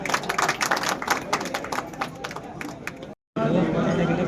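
Audience clapping and crowd noise fill a welcome at an Indore truck operators and transport association gathering, a dense steady applause under chatter that cuts off abruptly, then resumes as general hall noise.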